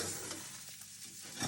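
Potatoes sizzle in a hot pan with a steady crackling hiss, accompanied by faint scraping as they are stirred.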